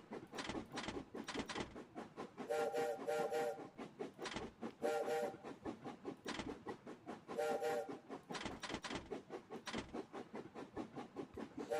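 Train sounds from a Lumosity puzzle game, where small trains have to be routed to their matching stations, play as a steady mechanical rumble. Short whistle blasts repeat three times over it, with no talking.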